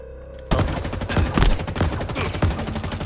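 Halo Infinite gunfire in a Last Spartan Standing match, starting after a half-second lull and continuing as dense, rapid shots with sharp cracks, loud and close throughout.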